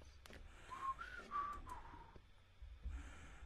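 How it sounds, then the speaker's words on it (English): A person whistles a short, soft melodic phrase of a few wavering notes, fairly close, over quiet room noise with no speech. "Why are you whistling?"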